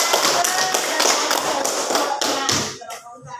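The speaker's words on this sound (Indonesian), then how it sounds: "Oke, beri tepuk tangan." Group applause from a classroom of pupils, a steady dense patter of many hands that fades out near the end.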